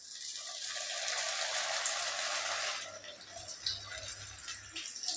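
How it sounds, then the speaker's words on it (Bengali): Fish pakoras deep frying in hot oil for a chili fish recipe, a steady close sizzle that crackles loudly for about three seconds and then thins to softer bubbling, with no talk. "একই রকমভাবে বাকি পকোড়াগুলোও ভেজে নেব।"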